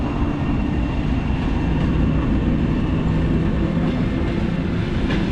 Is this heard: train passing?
yes